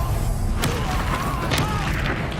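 Spell impacts from Depulso in Hogwarts Legacy: dense, continuous combat noise with a couple of sharp bursts and thuds rising out of a loud, busy mix of rumble and effects.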